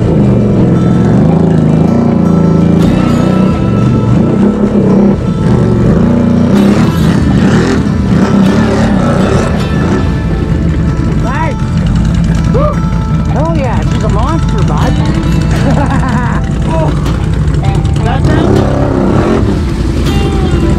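A Can-Am 4LOK off-road vehicle's engine roars loudly and close for the full length, surging and labouring under throttle with rough mechanical clatter, while people talk over it.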